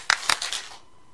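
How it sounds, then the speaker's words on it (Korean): A church congregation claps in unison at the preacher's call, a short run of sharp, reverberant hand claps that ring briefly in the hall and fade into quiet. "박수 3번 시작."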